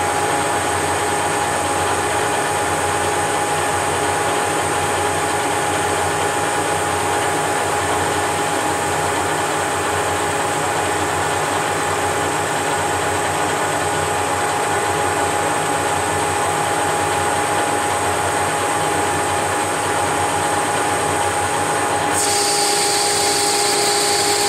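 A Whacheon 17x40 gap bed lathe, levelled, makes a test cut with a steady, continuous machining whir and hum that holds unbroken for the whole stretch, with a brief change in the high hiss near the end.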